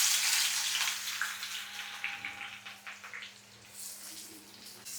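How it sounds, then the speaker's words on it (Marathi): Sliced onions sizzling in hot oil for biryani, a steady broad hiss that eases a little over time, close and alone. "चला पटकन त्यामध्ये ना बरिस्ता बनवून घेते"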